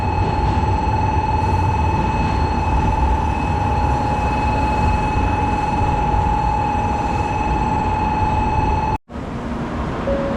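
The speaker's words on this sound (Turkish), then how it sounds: "Evet, tren şu an geldi." A train arriving at a station in Hiroshima, Japan, rumbles loudly nearby with a sustained mechanical whine and hum, a continuous heavy drone that briefly drops out near the end.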